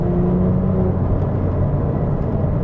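A Porsche 911 997 GT2 RS drives on open country roads on a sunny day, its engine a steady, loud, continuous rumble and whir with no speech.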